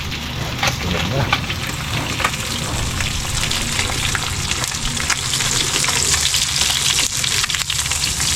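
Food frying in hot cooking oil, a loud dense sizzle and crackle that holds steady throughout, close up, with occasional clinks and a quiet voice beneath it.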